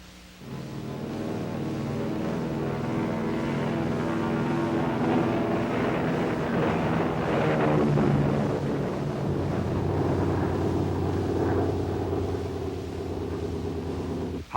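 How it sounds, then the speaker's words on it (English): High-speed chase jets take off to join a B-50 and X-2, a loud sustained engine roar with tonal whine that builds and holds, steady and close. "High-speed jets carrying cameramen and observers take off to join the B-50 and X-2."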